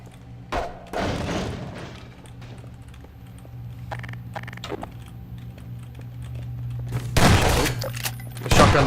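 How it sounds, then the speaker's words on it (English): Shotgun blasts in the video game Half-Life 2, a few heavy booming shots spaced across several seconds over a steady low game hum, with thuds and clatter between them. "I love the shotgun in this game."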